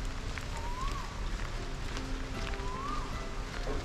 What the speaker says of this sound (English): It's just like a heavy drizzle, if that makes sense.